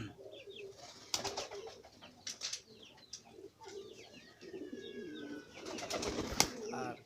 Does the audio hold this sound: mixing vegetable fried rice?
no